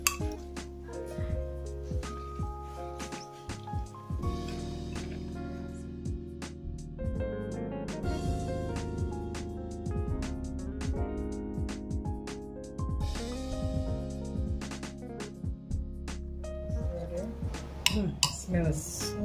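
A utensil stirs Jamaican green seasoning in a dish, giving steady clinks and scrapes against the container, with ringing tonal sounds throughout and brief speech.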